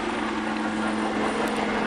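A Royal Navy Black Cats display helicopter at the Southport Airshow flies aerobatic manoeuvres, its rotor and engine a continuous, fairly faint distant drone with no speech.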